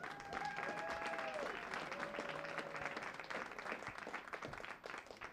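A crowd at a stand-up comedy show in Eldersburg applauds a comedian, with dense, sustained clapping and a few whoops that continue steadily throughout.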